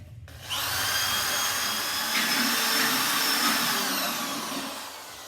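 Pottery glaze being mixed in a bucket with a power mixer, a loud continuous whirring drone that starts abruptly and holds steady for several seconds before easing slightly, no talking.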